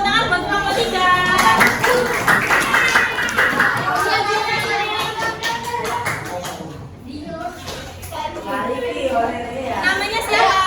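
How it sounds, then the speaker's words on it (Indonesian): Children in a sixth-grade classroom clap for a group's presentation, a dense, ragged patter of many hands that runs throughout, mixed with chatter and kids' voices. "Tepuk tangan buat kelompok 3"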